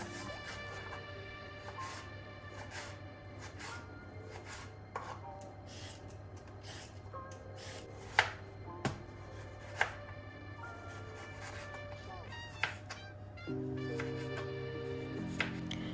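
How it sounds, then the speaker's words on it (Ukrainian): A knife slices carrot and cucumber into thin strips on a cutting board, giving quiet repeated chops with a few sharper, louder strikes, set against faint background hum and no talk. "Із овочів в мене морква і огірок. Їх потрібно порізати тоненькими соломками."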